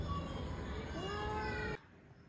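A pet cat meows at home in a long drawn-out wavering cry that holds and then cuts off abruptly, with a voice faintly around it.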